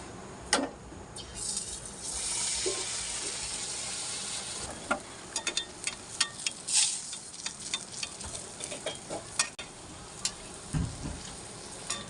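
Banana-flower chop pieces coated in gram-flour batter fry in shallow oil, a steady bright sizzle with scattered crackles and pops running throughout, with no talking.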